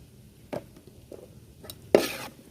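A spoon stirs ground coriander and garam masala into a village-style prawn and egg bhurji fry in a pan, giving a few separate scraping strokes, the last one louder and longer, over a quiet background.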